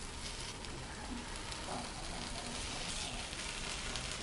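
Appam frying in a pan just after being flipped, a steady soft sizzle with faint crackle running evenly throughout, quiet and continuous with no voices.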